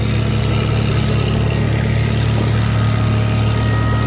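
An antique Super C tractor runs at a county fair tractor pull in Wattsburg, its engine a loud, steady, close drone with a deep low hum that holds without a break.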